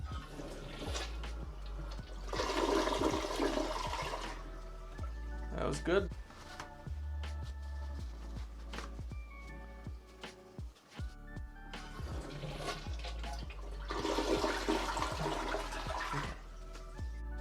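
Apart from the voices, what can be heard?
toilet flushing after augering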